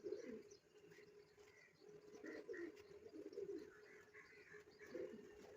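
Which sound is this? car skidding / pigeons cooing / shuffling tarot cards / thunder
pigeons cooing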